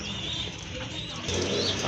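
Giribaj pigeons kept for sale cooing softly and continuously nearby, with low murmuring calls blending into a constant background.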